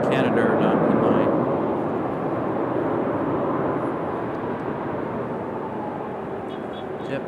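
A JetBlue airliner bound for Boston moves at Raleigh-Durham airport, its engines a steady, broad roar that holds loud and unbroken throughout.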